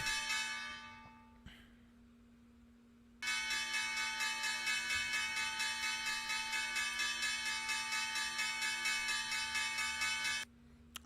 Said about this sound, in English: Let's just turn that bell